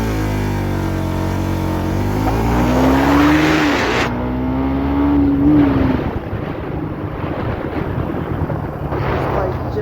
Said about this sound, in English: Putting on to first gear, revving the motor,